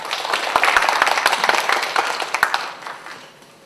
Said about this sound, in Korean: 우리 큰 박수로 환영 부탁드립니다